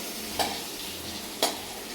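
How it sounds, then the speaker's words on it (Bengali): Potatoes for a meat curry frying in a pan, a steady close sizzle with two sharp scrapes of a spatula stirring them, no voices. "মাংসের আলুটা ভেজে নিই"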